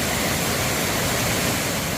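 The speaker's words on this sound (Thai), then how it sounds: "ตรงนั้นเป็นน้ำตกอีกชั้นหนึ่ง" A waterfall in Chiang Mai pours over rocks as a steady, dense rushing hiss, continuous and close for a couple of seconds.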